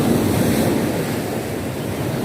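Sea waves wash continuously onto a beach at Gloria, Mindoro, a dense, steady roar of surf mixed with wind buffeting the microphone.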